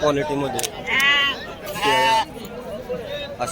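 Sheep bleating at a crowded livestock market in Kashti, two drawn-out bleats standing out over steady crowd chatter and background hubbub.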